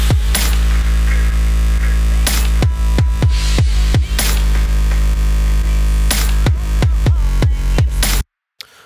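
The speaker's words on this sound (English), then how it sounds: "the solution to this usually would be to sidechain compress the bass, which would sound like this." A drum and bass mix with sidechain-compressed bass, the thick low end ducking under each punchy drum hit in a steady pumping rhythm, loud and continuous until an abrupt stop.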